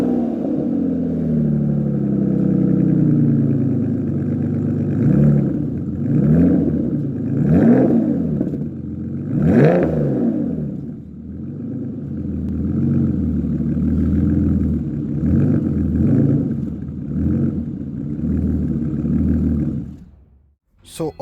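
An Aston Martin Vanquish V12 supercar engine starts and is revved repeatedly, each rising and falling surge loud and close, followed by a steady idle, with someone talking over it at times.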